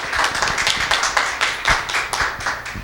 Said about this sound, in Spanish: Les pido un aplauso para darle una cálida bienvenida